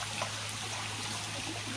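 Fresh water pours out through a drain at a pabda fish breeding hatchery, a steady close rushing trickle under a faint low hum, with no pauses.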